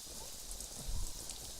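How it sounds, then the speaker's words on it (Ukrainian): Steady hiss of rain falling in a Minecraft-style video game, with a brief low rumble swelling midway, no voices. "Давайте, щоб дощ на вас не падав, вам ж гірше."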